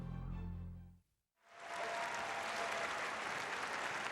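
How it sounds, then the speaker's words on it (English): A crowd cheers at the 2015 Nebraska Class A girls' state volleyball championship between Omaha Westside and Norfolk. A brief hush gives way to broad, sustained applause that fills the arena. "So you hear the applause from the crowd"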